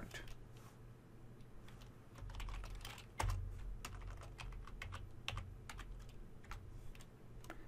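Steady, quiet keystrokes on a computer keyboard while VBA code is entered, an irregular run of crisp clicks close up with a few heavier taps and no talking.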